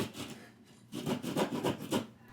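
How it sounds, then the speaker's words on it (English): Keyhole saw cutting through a drywall ceiling to find the joists, a rough rasping stroke sound coming in rhythmic bursts of several close, fairly loud strokes after a quieter start. "use a stud finder and keyhole saw to locate the joists inside the ceiling"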